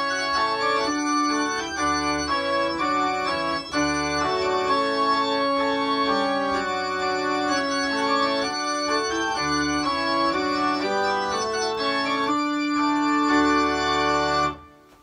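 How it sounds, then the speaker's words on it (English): Jeremiah Clarke's Trumpet Voluntary, the ceremonial wedding processional, plays as steady, full, sustained instrumental music for about fifteen seconds at an even loudness, with no talk, before cutting off sharply at the end. "The Trumpet Voluntary by Jeremiah Clarke"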